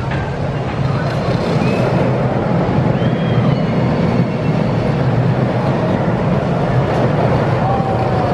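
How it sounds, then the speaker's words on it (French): A long multi-car roller coaster train at the OK Corral theme park rumbles steadily along its track, a continuous low rolling roar with faint high squeals, heard from nearby without any pause. "J'ai rarement vu un coaster avec autant de wagons."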